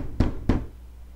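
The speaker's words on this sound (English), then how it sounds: "Who's knocking on our door?" Two distinct knocks on a door in the Roblox game Weird Strict Dad Chapter 2, evenly spaced about a quarter second apart, close and moderately loud over a low background hum.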